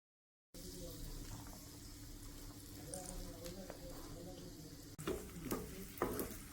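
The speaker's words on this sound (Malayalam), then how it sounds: "കടുക് വറക്കുമ്പം രണ്ട് കരിവേപ്പിലയും കൂടെ ഇടണം." Mustard seeds and curry leaves sizzle and pop in hot oil while preparing pineapple pachadi for a sadya, a steady close frying crackle with a louder burst near the end.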